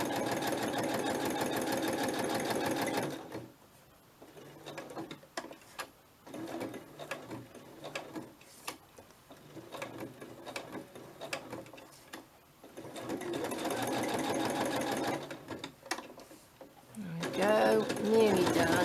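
A domestic sewing machine runs in steady, fast bursts as it stitches fabric, loud and close, stopping and restarting with quieter handling noises and someone talking in the gaps.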